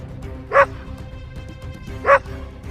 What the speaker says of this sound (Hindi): वो तो एक कुत्ता है। इतना बड़ा कुत्ता?